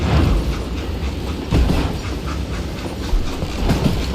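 A train rolls along the tracks in the Western shooter Call of Juarez: Gunslinger, a dense, loud rumble with faint clickety-clack beats and occasional heavier thuds, steady throughout.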